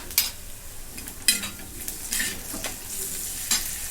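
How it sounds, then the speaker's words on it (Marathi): Garlic paste stirred and sautéed in a hot pan, a soft continuous sizzle broken by several scraping strokes of a spoon against the pan, close and without speech. "आणि जरा परतून घ्या आणि परतताना यांच्यात थोडीशी लसूणची पेस्ट टाकून घेते"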